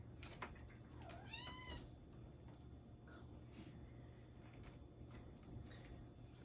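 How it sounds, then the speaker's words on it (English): A cat gives a single rising, drawn-out meow nearby against a soft background hiss, followed by quiet faint rustling. "my little kitty was meowing"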